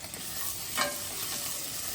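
Bay leaf, radhuni and grated ginger spit and crackle in a hot mustard oil tempering, a steady close hiss with one brief swell as the pan is stirred. No voices.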